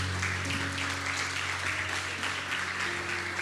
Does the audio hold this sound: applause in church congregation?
yes